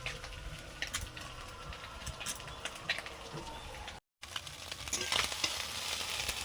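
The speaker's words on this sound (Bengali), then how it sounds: "চুনো মাছ ভাজা হয়ে গেছে" Small fresh chuno fish fry in hot oil, a steady dense crackling sizzle with occasional stirring clicks, continuous and close throughout with a brief dropout midway.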